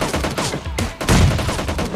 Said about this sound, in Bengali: চারিদিকে এনিমি এত ফায়ার সাউন্ড পাচ্ছি আমি